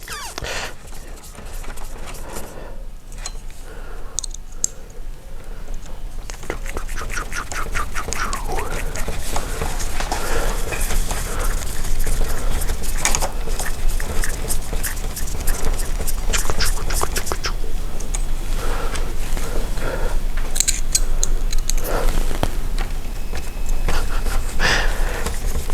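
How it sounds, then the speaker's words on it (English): Continuous whirring and buzzing of a machine with stepping motors, fluctuating rhythmically, close by and fairly loud with no one speaking. "that 3D printer sound is really picking up."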